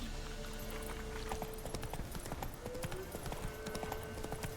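Roach, the horse in The Witcher 3, gallops with a quick steady clip-clop of hooves throughout, alone and at moderate loudness over faint background game ambience.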